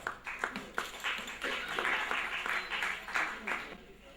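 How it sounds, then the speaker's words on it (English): Audience applause at an award function in New Delhi, 2005: a full room clapping steadily and fairly loudly for several seconds, close and continuous. "A big round of applause."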